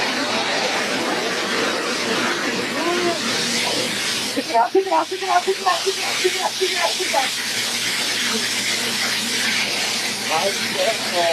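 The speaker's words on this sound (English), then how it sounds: "if you don't know what happens when you put ice in a deep fryer, well, here's an example" Ice dropped into a hot deep fryer sets off a loud, continuous, sputtering hiss of boiling oil. A voice briefly talks over the sizzling partway through.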